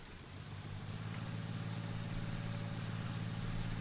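A tractor running a tedder in Farming Simulator 19, a steady low engine drone with a constant hum holding even for several seconds, moderately loud and with no talk over it.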